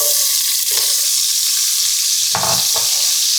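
Onions hiss and sizzle loudly in a hot Demeyere pan, a constant close crackle with a couple of brief stirring scrapes partway through.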